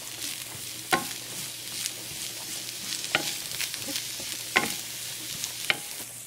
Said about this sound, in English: just saute it a little so that the salt, so that the oil gets distributed evenly on the cabbage